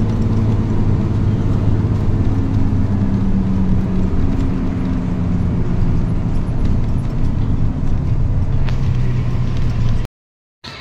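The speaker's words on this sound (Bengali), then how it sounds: "এই যে দেখুন, এই গাড়ির কি সুন্দর গর্জন, কি সুন্দর আওয়াজ, ইঞ্জিন।" Star Line intercity bus engine on the Chattogram to Dhaka road, a loud, steady low rumble with road noise that holds for about ten seconds before cutting off abruptly.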